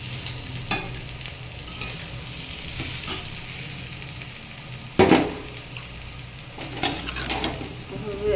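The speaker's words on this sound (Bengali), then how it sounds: "আর এদিকে তেলে কালো জিরে দিয়ে দিলাম ফোড়ন। আর এই যে আমার কেটে রাখা শাক, এটাকে দিয়ে দেবো।" Chopped leafy greens dropped into hot oil tempered with nigella seeds, hissing into a steady close sizzle with sharp bursts of spitting as they hit the pan, alongside occasional stirring scrapes.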